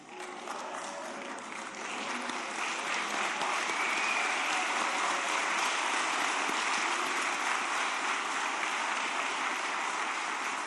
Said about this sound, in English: I want to request us to stand up and just clap hands for ourselves